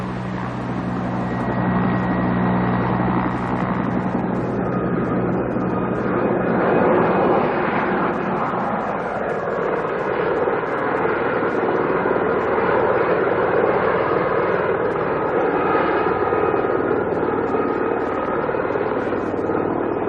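A helicopter at an archaeological excavation site, its engine droning steadily and loudly throughout, with a low rotor hum and a brief swell midway.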